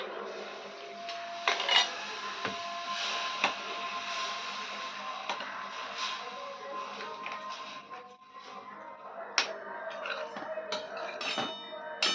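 Mixed vegetables for bhogi bhaji being stirred and sautéed in a pan, with steady frying hiss and repeated metal spoon scrapes and clinks against the pan, close and continuous for several seconds.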